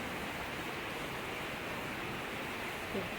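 Steady rain falls outside in Sangam Vihar, a dense, even hiss of water that fills the whole stretch without pause, loud and close, with no voices over it.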